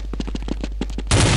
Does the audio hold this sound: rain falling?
no